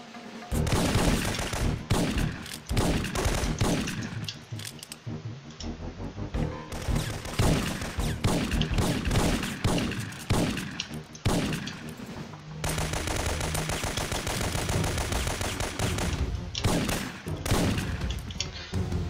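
Dense, loud gunfire from the PlayStation game Syphon Filter 3, with rapid bursts and automatic fire running almost continuously over the game's soundtrack and effects, with no talking.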